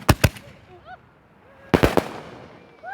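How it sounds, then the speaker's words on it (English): Fireworks and firecrackers go off outdoors near a place where sparklers are lit, with two sharp bangs up front and another cluster of loud pops later, separated by quieter crackling and faint whistles. "Fireworks. And sparklers and stuff."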